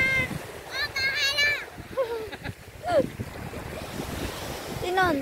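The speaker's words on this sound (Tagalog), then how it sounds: "dito tayo sa tabing dagat." Sea waves wash onto the shore at Cheung Chau, a steady surf hiss with wind buffeting the microphone, while people talk over it.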